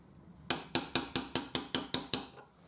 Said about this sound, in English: What I'm going to do is use the LSH bump key, see if I can open this lock